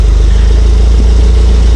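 A car engine fitted with a boost gauge idles loudly and steadily up close, a continuous low throbbing rumble with a slightly uneven, shaky pulse.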